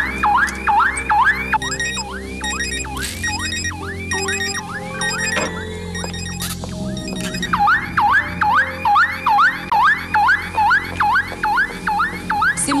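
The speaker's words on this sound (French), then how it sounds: "Éloignez-vous ou je déclenche l'alarme." A repeating electronic alarm siren whoops in rapid rising sweeps, loud and steady, pausing briefly in the middle before resuming with the same rhythmic pattern, with no voices.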